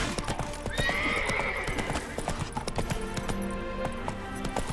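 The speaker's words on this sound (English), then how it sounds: "Run, Roach." Roach, Geralt's horse in The Witcher 3, gallops with rapid rhythmic hoofbeats, and a loud neigh breaks out near the start over the steady pounding.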